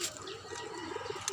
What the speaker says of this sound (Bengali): কবুতর খাবার খাচ্ছে